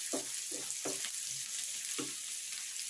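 Onion frying in oil until brown for a Telugu tambakaya iguru curry, a steady hiss of sizzling with a few soft stirring scrapes, close and alone with no talk.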